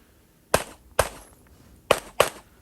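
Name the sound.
1911 single stack pistol shots at USPSA stage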